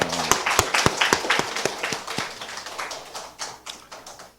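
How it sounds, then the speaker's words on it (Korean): Congregation in a church service breaks into applause, beginning with several sharp, evenly spaced claps that blur into a thinner, fading patter of many hands. "박수로 우리 축하하고 환영합니다."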